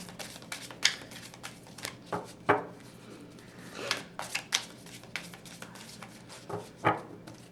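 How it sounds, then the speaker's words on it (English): Tarot cards shuffled by hand in a quiet room, giving irregular soft riffles and slaps that come in bursts of a few clustered strokes, close and moderately loud. "but I'm gonna keep shuffling."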